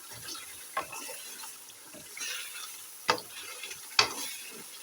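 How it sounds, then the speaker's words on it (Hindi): Chicken shinwari karahi frying in a pan and being stirred, a soft low sizzle with several sharp clinks and scrapes of the spoon against the pan at irregular intervals. "अब 2 से 3 मिनट तक मज़ीद हमने भूनना है।"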